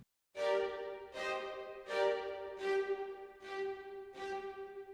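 Six short spiccato bowed string notes from a sample library, time-stretched, evenly spaced, each with a smeared, lingering tail and a slightly distorted, stretched quality, played alone.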